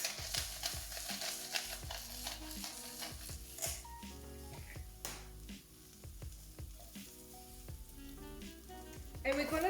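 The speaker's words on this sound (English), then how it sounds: "we're gonna stir all together" Onions and spices fry in a pan for a vegan coconut chickpea curry, a close sizzle punctuated by repeated utensil scrapes and taps as everything is stirred together, with no talking.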